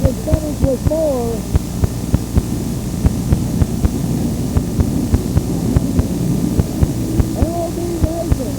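The triple-turbine-engine pulling vehicle Gravity Indian Outlaw runs with a steady, dense roar and hum, dotted with sharp crackles throughout, heard on a worn recording with faint voices.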